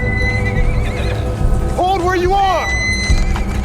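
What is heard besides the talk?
horse approaching at a gallop in The Walking Dead video game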